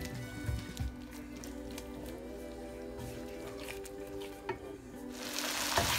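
Spiced hilsa fish masala is stirred and fried in a pan, a steady soft sizzle under scraping spoon strokes, with a louder hiss toward the end.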